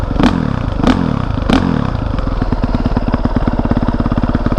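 A 2020 Honda CRF450R dirt bike engine warms up, idling with a steady rapid putter, punctuated by three sharp revs near the start before settling into an even, loud chug.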